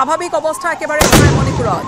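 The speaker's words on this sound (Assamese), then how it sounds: "শব্দ শুনিছে, এয়া গুলীৰ শব্দ" A single sharp gunshot, fired into the air to disperse protesters in Manipur, bursts out loud and close right after a news reporter's voice and rings on briefly beneath it.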